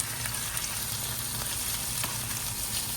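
Steady, crackling sizzle of salmon frying in a hot pan, continuous and close, with faint high hiss throughout and no talking.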